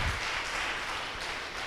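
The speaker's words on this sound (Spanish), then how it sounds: "Démele un aplauso al Rey de Reyes y Señor de Señores" A congregation applauds in church during a worship service, a steady wash of clapping that holds at an even level from start to finish with no voices over it.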